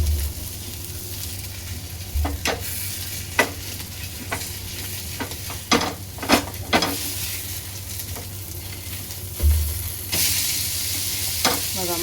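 Fresh vaktya, a fish, frying in hot oil in a pan, with a steady crackling sizzle throughout and sharp spatter pops and occasional clanks of a spatula stirring or flipping the pieces.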